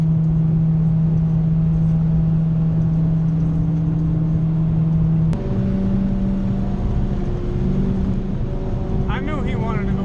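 A Honda CRX engine drones steadily and loudly from inside the car as it accelerates onto the freeway, with a pitch shift partway through as it shifts gear and continues pulling, with talk over the top.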